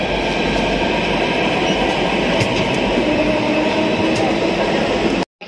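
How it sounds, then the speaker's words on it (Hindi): A Delhi Metro train arriving at Pratap Nagar station rumbles loudly and continuously close by, a steady roar of wheels and motors with faint squeals, then cuts off abruptly. "मेट्रो तो आई है पर ये हमारी नहीं है"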